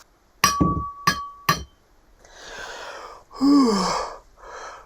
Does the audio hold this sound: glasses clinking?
yes